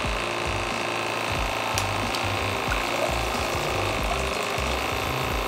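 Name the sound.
Geyser Systems portable shower draining water from its tank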